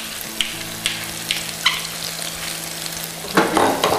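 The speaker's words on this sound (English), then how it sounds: "Give it a little loving stir here." A corn and black bean salsa seasoned with salt and pepper sizzles in a pan as it is stirred, with soft scraping strokes over the frying hiss and a louder burst of stirring near the end, close and clear with no talk.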